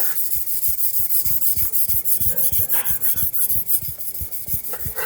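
A hand plane iron with a secondary bevel is rubbed back and forth on a sharpening stone, giving a steady, close rasping rhythm of repeated strokes with no talking.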